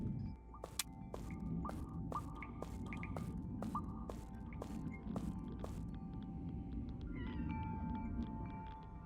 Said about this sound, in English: Cat, still meowing.